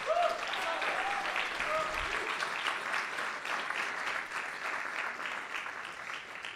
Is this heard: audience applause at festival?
yes